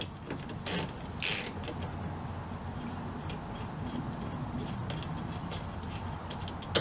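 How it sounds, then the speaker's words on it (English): A 10mm ratchet wrench clicks as screws are removed from an aFe intake on an FRS/BRZ, with soft mechanical ticks and a couple of sharper bursts close to the microphone. "the next step is going to involve your 10mm wrench. You're going to take off 3 screws"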